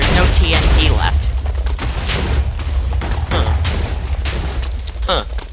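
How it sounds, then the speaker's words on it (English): TNT detonates in a game setting as a dense, continuous run of booms and crackling blasts that stays loud and close throughout, with a voice talking over the explosions. "It's still detonating, but there's no TNT left."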